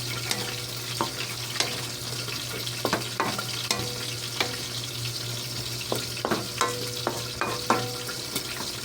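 A vegetable dish stirred in a frying pan, with steady close sizzling and frying under repeated scrapes and clinks of the utensil against the pan, one every second or so.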